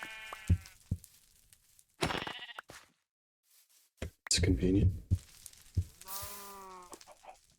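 Sheep bleating in Minecraft, several short nasal bleats in separate bursts close by, between game clicks and soft rustles, with someone talking in between.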